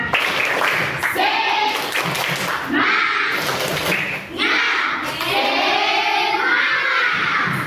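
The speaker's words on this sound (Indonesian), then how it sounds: "Kita tepuk semangat dulu agar lebih semangat" A classroom of schoolchildren claps out a rhythmic 'tepuk semangat' spirit chant, loud grouped bursts of hand claps alternating with the kids' chanted voices, repeating in patterned phrases.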